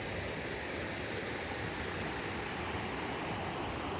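Steady rushing babble of Hat Creek flowing through a clear swimming hole in Lassen National Park, a continuous broadband water wash heard up close with no voices.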